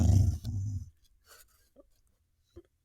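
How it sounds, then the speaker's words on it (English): A dog gives a low, close growl in two rumbling bursts at the start, then falls mostly quiet apart from a couple of faint brief sounds. "he's growling next to me here"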